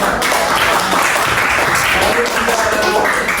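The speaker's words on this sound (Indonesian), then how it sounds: "Ya, tepuk tangan." Students clapping in an Islamic education classroom at a madrasah, a loud, dense, steady burst of applause lasting several seconds, with faint voices mixed in.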